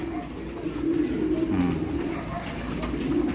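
A young pigeon coos in low, repeated throaty tones close by at night, steady over faint background noise, with no talking.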